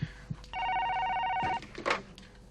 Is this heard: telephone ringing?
yes